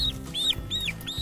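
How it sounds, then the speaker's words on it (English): Chickens being chased give repeated rising squawks and agitated clucks, three or four close, loud calls in quick succession over a low rumbling background. "Okay, chasing chickens."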